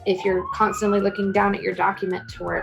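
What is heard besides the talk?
sirens in the background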